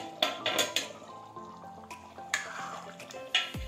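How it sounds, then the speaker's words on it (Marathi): A lid comes off a kadai of bhogi vegetable curry with potatoes after ten minutes over a low flame, giving a few light metallic clinks and clatters spaced over a few seconds, with a faint simmering hiss beneath and no talking. "आता आपण एकदा झाकण काढून पाहूया कढईवरचं"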